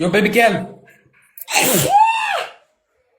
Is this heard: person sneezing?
yes